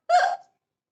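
A single short voiced hiccup-like yelp, imitating an elephant's hiccup, sounds close and loud for under half a second, then silence.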